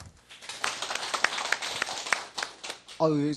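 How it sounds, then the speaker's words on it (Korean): Applause from the audience at a city government staff meeting, a scattered burst of claps building for about three seconds before a voice begins speaking at the end. "격려의 박수 부탁드립니다"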